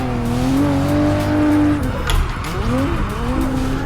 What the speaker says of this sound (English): So we had a downshift there